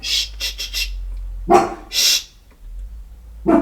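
A dog barks several times in short, sharp bursts with pauses between, fairly close and loud, with a low hum in the background.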